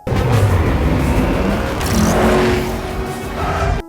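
A car speeds away during a movie chase scene, its engine roaring loud and close throughout, swelling and easing with a brief squeal-like edge near the middle.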